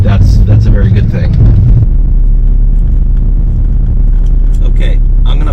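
A car pulls away in first gear, its engine giving a low, steady rumble close by, while a person talks over it during the first couple of seconds.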